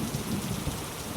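Steady heavy rain pours outside, dense and even, with a low rumble of thunder rolling beneath the downpour throughout a short stretch.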